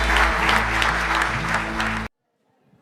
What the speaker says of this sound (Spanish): Le damos un fuerte aplauso a nuestro Dios.